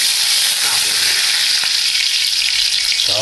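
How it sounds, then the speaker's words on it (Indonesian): Bean sprouts frying in a pan, a loud, steady broadband sizzle that holds at an even level from start to finish with no talking. "Saya akan membuat toge goreng."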